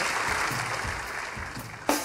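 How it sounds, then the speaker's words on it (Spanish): Audience applause for Pichito at a live comedy podcast taping in Iquitos, a moderate continuous patter of clapping with a few low murmurs and a sharp knock near the end. "Un aplauso para Pichito, por favor, igual."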